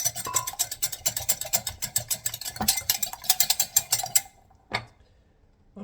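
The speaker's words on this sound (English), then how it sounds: "Whisk it up." Hungarian crepe batter with a pinch of salt being whisked briskly in a bowl, a fast run of rhythmic clicking strokes for about four seconds, then stopping with one last tap.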